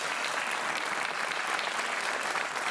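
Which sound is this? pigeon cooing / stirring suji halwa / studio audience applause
studio audience applause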